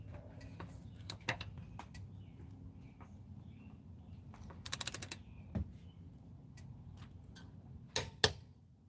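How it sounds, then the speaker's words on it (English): Bosch torque wrench set to 150 foot-pounds giving a few sharp clicks, with a tight pair of clicks near the end, close by over a low steady background hum. "Click, click."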